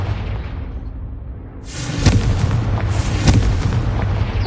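A fire spell blast in Hogwarts Legacy erupts midway as a loud, booming burst, followed by another heavy explosion-like crack and a sustained rumbling roar.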